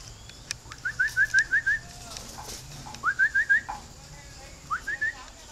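Spotted doves cooing from a breeding cage, three clear rhythmic bursts of soft repeated coos spaced across the moment, near and distinct over quiet background hiss.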